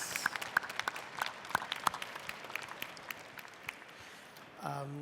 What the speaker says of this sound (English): Big applause for all of the winners.